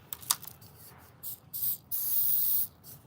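Hairspray is sprayed onto dry leaves in an attempt to start a fire, coming as several short hissing bursts followed by one longer, steady spray, close and fairly loud.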